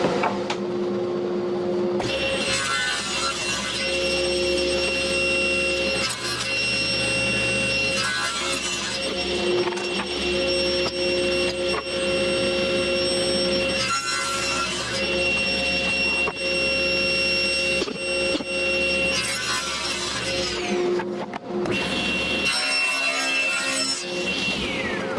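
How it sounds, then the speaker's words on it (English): Power saw cutting excess plywood off a Coleman heater box, a loud continuous whining cut with steady tonal hum, briefly dropping out twice before resuming, no voices. "But now I have to cut off the excess."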